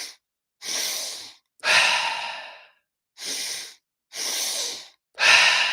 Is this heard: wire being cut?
no